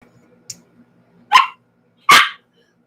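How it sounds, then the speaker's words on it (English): A dog gives two sharp, loud barks close by, after a small yip, with quiet gaps between them in an otherwise calm indoor room. "No barking."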